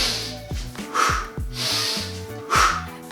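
Breathing during kettlebell swings comes as loud, forceful nasal inhales and sharp exhales in a repeating rhythm, close and prominent, with faint thuds and clanks underneath.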